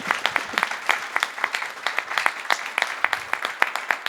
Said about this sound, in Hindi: आपकी तालियां बताएंगे कि ये सेशन कितना बढ़िया रहा